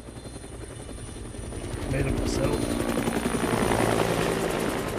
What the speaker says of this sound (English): It starts with a helicopter.